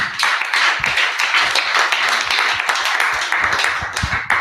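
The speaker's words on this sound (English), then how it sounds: "I'd like to ask for a last round of applause for the panel speakers who have presented" Workshop audience on computational thinking in education gives the panel speakers a final round of applause: dense, loud, continuous clapping from many hands, close and unbroken throughout.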